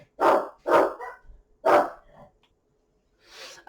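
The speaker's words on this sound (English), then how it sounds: "That's my dogs. They're barking at something." Dogs bark nearby in a home, three loud, close single barks followed by a short pause and a fainter, softer sound at the end.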